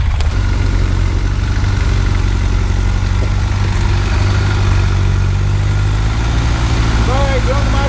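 A Cummins diesel swapped into a Jeep YJ idles loudly and steadily, a constant low throbbing rumble close by, with someone speaking over it.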